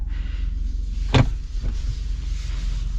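Power side mirror on a 2024 Ford F-150 Tremor pickup being adjusted, a brief whirring motor burst with a quieter second buzz shortly after, heard over a steady low idle inside the cab.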